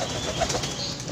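A male pigeon driving and courting a female dove, soft low cooing and faint rustling close by, brief and steady without speech.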